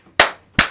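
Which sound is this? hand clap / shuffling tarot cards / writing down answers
hand clap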